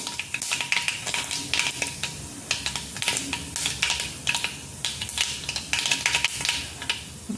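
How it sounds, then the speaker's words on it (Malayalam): Mustard seeds with fenugreek spluttering in hot oil for a Kerala-style coconut moru curry pop and crackle in dense, sharp bursts over a continuous sizzle, close and fairly loud, with no talking. "കടുക് പൊട്ടണം."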